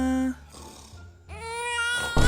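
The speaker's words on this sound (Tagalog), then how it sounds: "Baby, stop crying na." An infant cries in short harmonic wails, one burst, a pause, then a longer rising cry, loud and close indoors, ending in a sudden loud rustle.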